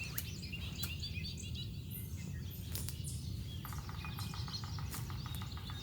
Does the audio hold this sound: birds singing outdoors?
yes